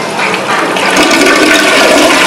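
Close, loud toilet flush from a dual flush toilet, a steady rushing swirl of water building and holding for a couple of seconds without any talking.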